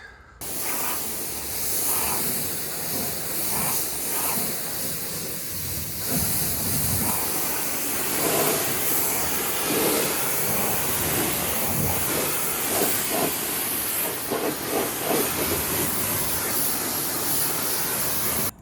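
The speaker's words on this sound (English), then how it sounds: "So as I'm gonna let that work for a little bit, and then we're gonna hose it off, basically." Water from a hose sprays steadily onto a car during a rinse, a continuous close hiss with slight surges as the stream moves, no talking.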